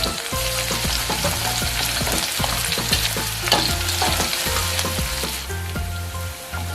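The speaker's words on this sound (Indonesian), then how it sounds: "Pertama kita tumis dulu. Bawang putih sama bawang merahnya." Garlic and shallots sautéing in a hot pan: a loud, continuous sizzle and crackle close by, with stirring scrapes and clinks from a utensil against the pan.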